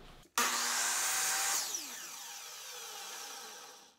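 A miter saw cuts through wood molding against a sacrificial fence, its loud motor whine starting abruptly, holding steady through the cut, then winding down and fading as the blade spins to a stop.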